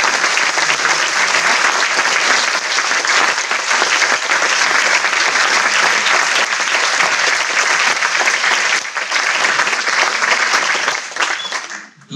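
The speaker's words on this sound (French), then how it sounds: "je voudrais que vous les applaudissiez." Applause from a large audience at a lawyers' congress, a dense and loud wall of clapping sustained evenly for about twelve seconds before quickly dying away.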